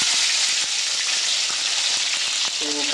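Panch phoron spices sizzle loudly in hot oil for tomato chutney, a bright continuous crackle and hiss with faint stirring clicks, close and unbroken throughout.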